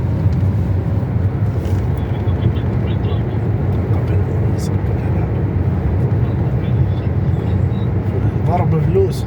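A car driving through Muscat, Oman, giving a steady, close low rumble of engine and road noise that holds unchanged throughout, with faint voices now and then.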